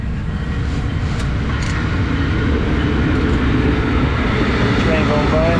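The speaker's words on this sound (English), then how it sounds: "Train going by." A train passes at a distance, a steady broadband rumble and rolling roar holding level throughout, heard outdoors beside an old 1964 Ford N600 flatbed truck.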